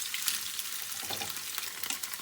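Cheese garlic pasta cooking in a pan over a low flame gives a steady, soft sizzle with light frying crackle throughout, close and alone with no talk.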